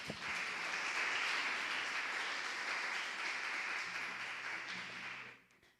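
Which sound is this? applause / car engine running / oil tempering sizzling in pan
applause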